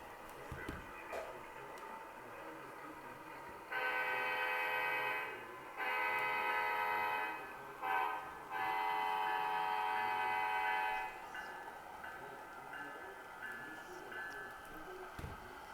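A model Amtrak P42DC diesel locomotive fitted with a Tsunami 2 DCC sound decoder idles softly on a layout, then sounds its horn in a long, long, short, long pattern of loud sustained blasts before settling back to a low idle.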